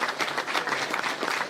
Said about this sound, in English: let's give a round of applause to all the families here today that have made this happen